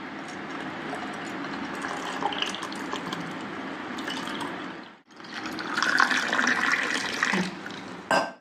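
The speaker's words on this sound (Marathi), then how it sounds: "आता यात मी थोडंसं थंड पाणी टाकत आहे।" Cold water pouring into raw mango pulp for a summer panha drink, a steady splashing stream that briefly pauses and then resumes louder, close and continuous with no talk.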